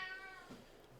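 A cat gives a single short, faint meow, fairly distant and alone.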